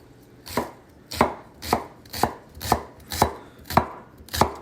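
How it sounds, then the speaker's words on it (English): A knife dices cooked beets on a cutting board in a steady rhythm, about eight crisp, evenly spaced strokes close by, with no talking. "So I'm just going to dice this up pretty thin here."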